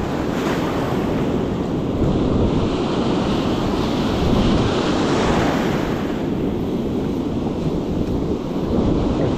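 Sea waves breaking on a beach while wading for sea bass, a continuous loud roar of surf mixed with gusty wind buffeting the microphone, swelling and easing over several seconds.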